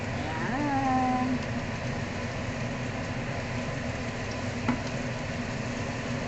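Garlic frying in oil and butter in a pan, a steady close hiss and sizzle that stays level throughout, with no talk over it.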